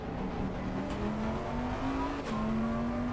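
A steady race car engine in a racing video game drones throughout at the Nurburgring, its pitch rising slowly as it revs, with a faint whoosh of another car passing midway.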